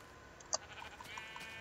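A sheep in Minecraft with the Technic Pack gives a single short, faint bleat against quiet game ambience, followed by soft scattered clicks.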